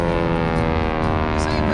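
A T-6 propeller trainer plane flying maneuvers at the Atlantic City airshow in New Jersey, its radial engine droning loud and steady with a rich buzzing tone through the short stretch, a voice talking over it.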